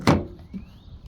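A Toyota 4Runner dashboard compartment door opens with a sharp plastic click and release, followed by a faint creak as it swings, close and brief.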